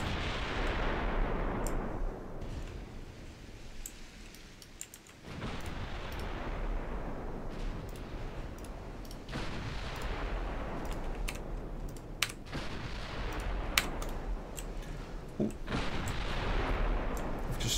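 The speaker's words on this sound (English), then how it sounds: "Firing into the smoke screen will get us some hits." Warship naval guns fire in a dreadnought-era naval combat video game, producing repeated booming salvos with long rumbling decays, interspersed with sharp clicks and taps, with no talking.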